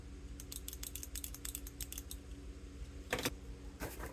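Limit switches on an Elegoo Phecda give quiet, sharp clicks in a quick irregular series, followed by a couple of slightly louder double clicks near the end, close up in a quiet room.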